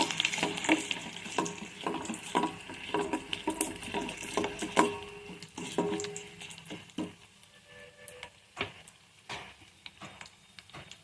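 Mustard seeds, cumin and curry leaves sizzle in hot oil as a tempering for a bottle gourd and greens curry, with crackling bursts and sharp pops at close range that thin out toward the end, with no talk.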